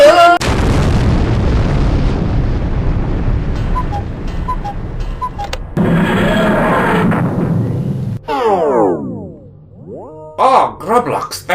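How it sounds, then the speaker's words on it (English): A primitive vortex torpedo strikes a ship in a game with a series of loud booms and blasts, followed by sweeping electronic effects. A voice speaks over the noise. "they've hit us with some kind of primitive vortex torpedo"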